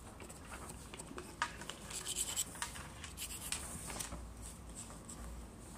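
Pencil marking out wood for a dovetail halving joint, faint scratchy writing strokes in short irregular bursts over a soft background hiss, close and quiet.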